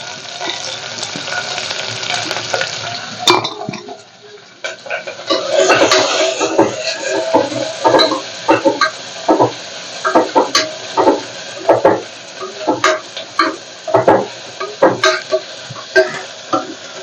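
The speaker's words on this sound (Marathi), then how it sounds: "इथं कांदा ना चांगला भाजून घ्यायचं आणि ह्याला जास्त काळं पण होऊ द्यायचं नाही" Finely chopped onions sizzle in hot oil in a pan while a spoon stirs and scrapes them in repeated rhythmic strokes, loud and close, with a voice speaking over the cooking.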